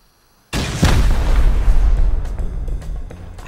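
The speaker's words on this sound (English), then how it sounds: "I timed my movements with the explosions to cover my footsteps." Explosions during a base raid in the game Rust, a sudden loud blast after brief silence, then a second heavy boom and a rolling, crackling rumble that slowly fades.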